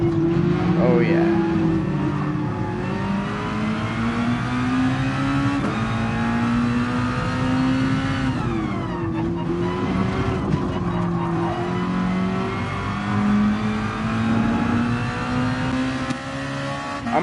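Race car engine in Gran Turismo Sport on PS4 Pro drones steadily throughout, shifting pitch with acceleration and gear changes, loud and continuous with a hint of tire noise.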